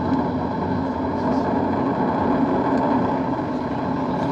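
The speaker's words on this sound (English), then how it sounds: "All 4 RS-25 engines on the core stage and 2 solid rocket boosters now propelling the vehicle at 128 miles per hour." The Artemis 1 SLS rocket lifts off on four RS-25 core-stage engines and two solid rocket boosters, heard as a steady, dense roaring rumble that holds at an even, moderately loud level throughout.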